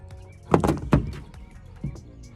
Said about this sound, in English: Time to put the door handle back on.